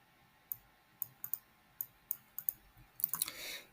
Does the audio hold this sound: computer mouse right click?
yes